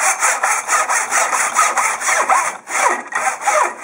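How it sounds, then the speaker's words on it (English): A miter saw cutting through a wooden workpiece, a loud, steady rasping roar that rises and falls with a brief dip midway, close up and with no voices. "place the work back into the miter saw, and cut the second side"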